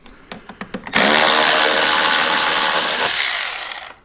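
A few quick light ticks, then a loud, sustained high whir of a power driver with a Torx 27 bit backing out fairing screws on a motorcycle, running for about two seconds before winding down.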